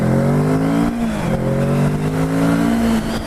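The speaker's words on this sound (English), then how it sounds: "I left my windscreen open so you guys can hear that motor." A 2017 Kawasaki Z650 motorcycle engine revs close by, its steady harmonic drone holding through a couple of throttle blips and pitch dips, loud and continuous with no talking.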